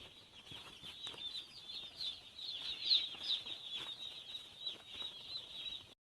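Broiler chicks crowded in a poultry farm shed of about 3,240 birds, giving a steady wash of high peeping and chirping with wing flutters and rustling throughout, moderately close.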